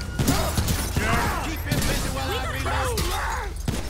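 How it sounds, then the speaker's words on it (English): Gunfire in the video game GTA V with the LSPDFR police mod during a shootout, a dense fusillade of sharp cracks amid crashes and mechanical clatter, with a voice talking excitedly over it. "He's shooting."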